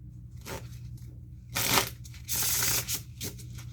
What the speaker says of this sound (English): you can appreciate that the cards are being shuffled